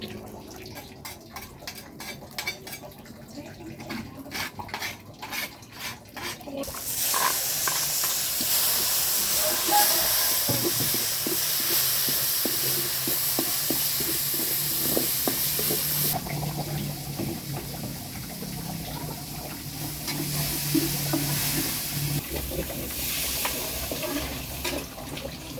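Water spinach stir-frying in a reused oiled wok at a camping cookout, a loud sustained sizzle and hiss that surges in after a few quieter seconds and keeps steaming for the rest of the clip.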